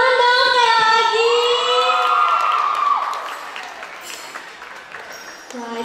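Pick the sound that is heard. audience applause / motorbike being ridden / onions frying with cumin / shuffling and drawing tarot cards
audience applause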